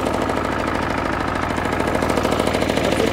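A vehicle engine drones steadily on the drive out to a farm to collect pressed hay, a loud, close mechanical hum with a rough rhythmic chug and no talking.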